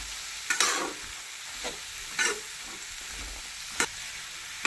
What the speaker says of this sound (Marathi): भोपळा जी आहे तो परतून घ्यायचा